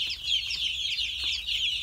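A crowd of one-week-old chicks peeps steadily with dense, overlapping high cheeping, close and continuous throughout, with no voices.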